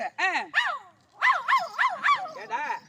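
A voice imitating a dog barking during Tamil street theatre, a quick series of about eight yelping barks in two bursts with a short pause between, close and clear.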